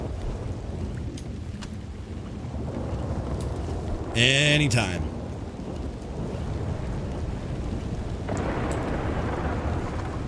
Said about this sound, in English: God, I hate the storms in this game.